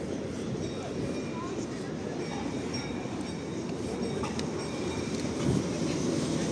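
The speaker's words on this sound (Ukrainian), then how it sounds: "Це чеський трамвай." A Czech-built tram rolls along city street rails in Lviv at night, a steady broad rumble of wheels on track that holds level throughout, with faint metallic clinks and some background voices.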